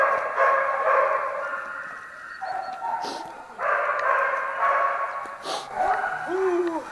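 Dogs at a shelter near Krasnoyarsk bark and yip in repeated bursts, some whimpering, loud and close, with people talking among the noise.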